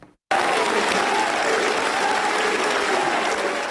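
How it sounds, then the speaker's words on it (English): A packed crowd at Calvary Church in San Jose cheers and applauds for Larry Elder, a dense, steady roar of clapping and voices that starts abruptly and holds at full loudness throughout. "Larry Elder, was greeted by cheers from a packed crowd at Calvary Church in San Jose Thursday afternoon"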